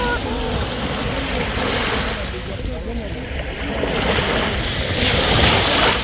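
Sea waves at Al Mamzar Beach in Dubai, a steady rushing surf with wind noise on the microphone, swelling louder toward the end.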